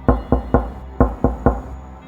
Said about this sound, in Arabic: بابا وماما كانوا بيخبطوا على الباب